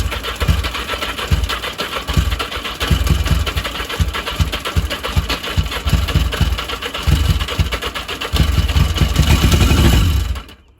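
A Honda motorcycle engine starts on choke and settles into a loud, close, rapid idle throb that keeps up steadily, then cuts off abruptly at the end.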